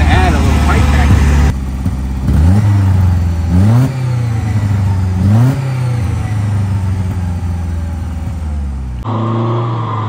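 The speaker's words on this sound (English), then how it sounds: "Check out that exhaust note." A 1965 Lancia Fulvia's engine and exhaust drone steadily on the move, rising in repeated revving swells as the car pulls through gears, loud and close, with a voice talking over part of it.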